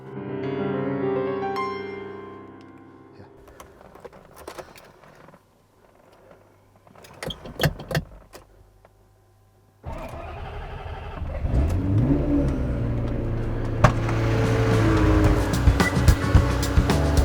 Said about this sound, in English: So unfortunately the car will not start